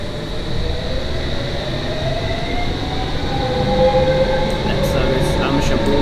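A London Underground Metropolitan Line train waiting at a station in the Train Simulator 2020 game, with a steady loud hum and rumble throughout and faint high chimes and clicks toward the end.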